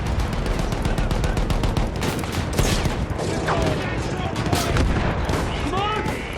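Dense rattling gunfire and machine-gun bursts fill a World War battle in a war video game, crackling shots layered close and far. Shouted voices sound faintly under the shooting.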